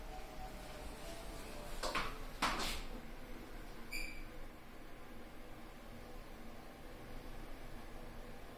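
A Mitsubishi elevator door at an Osaka Metro station slides shut with two soft swishing sweeps, followed a moment later by a brief metallic clunk, against a low, steady hum in a quiet setting.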